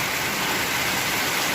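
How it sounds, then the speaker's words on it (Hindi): Heavy rain pours in a steady, dense hiss that stays loud and even throughout, with no talking over it. "बारिश फुल तेज है।"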